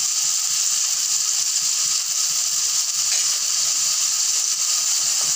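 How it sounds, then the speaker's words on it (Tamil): Onions and tomatoes sauté in a pan for a fish curry, giving a steady, even sizzling hiss that carries on throughout, with no talking over it. "வெங்காயம் தக்காளி நல்லா வதங்கட்டும்"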